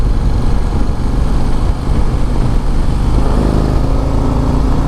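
A 2024 Harley-Davidson CVO Road Glide motorcycle riding down the road, its engine rumbling steadily with heavy wind noise throughout, loud and close with no talking.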